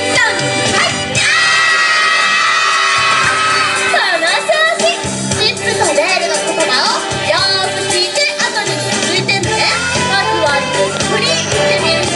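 A crowd of children at a Disney Super Duper Jumpin' Time show with Chip and Dale shout loudly together over bright music, the massed young voices sustained and energetic throughout.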